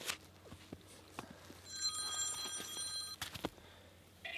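A phone rings on a frozen lake during a winter ice-fishing camp, one electronic ringing burst of steady tones lasting over a second, fairly faint amid scattered clicks and handling knocks.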